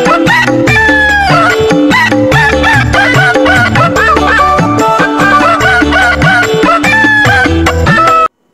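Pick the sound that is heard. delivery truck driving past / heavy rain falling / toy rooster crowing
toy rooster crowing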